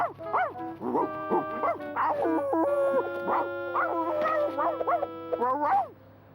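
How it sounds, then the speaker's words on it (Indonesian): A cartoon dog barks, yips and whimpers in a busy animated scene. Voices and steady background music run under it throughout. "Menggonggong yang kau suka, anjing."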